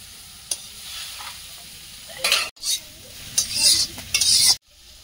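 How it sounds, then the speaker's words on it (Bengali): Chowmein and vegetables fry in a wok, with soft sizzling beneath bursts of scraping, clattering stir strokes that come in uneven surges and then stop abruptly. "সব চাউমিন গুলো এইভাবে ভেজে নেবো একধারে, আর একধারে সবজিগুলো ভাজছি"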